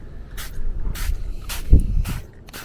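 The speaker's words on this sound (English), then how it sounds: "just get that spray on here" Cleaner is sprayed onto the interior of a Polestar 2 in five quick, separate hissing bursts with short pauses between them, close and distinct.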